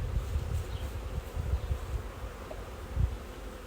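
Honeybees hum in a dense, steady drone inside a hive during queen rearing with a starter colony, close and continuous, with faint rustling and light knocks underneath.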